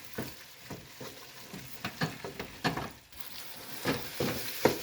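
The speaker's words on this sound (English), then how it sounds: "Stir this up and let this cook about 2 minutes." A pot of chili with six ounces of tomato paste being stirred as it cooks, giving soft irregular scrapes and thick wet bumps under a faint background, with no talking.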